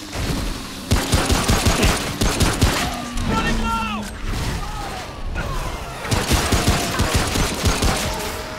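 Heavy bursts of video game gunfire from Remnant From The Ashes come in repeated volleys, loud and near, with players talking over and between the shots.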